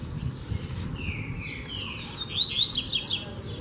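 Double-collared seedeaters call outdoors, a male and female together, giving quick whistled chirps and rising trills that grow louder and denser toward the end over a low background rumble.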